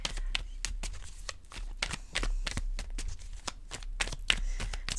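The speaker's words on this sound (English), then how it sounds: "Sloppy Shuffle Tarot. It happens every time." Tarot cards shuffled loosely by hand, a rapid run of crisp riffling slaps and flutters in quick irregular bursts, close and steady throughout with no talking.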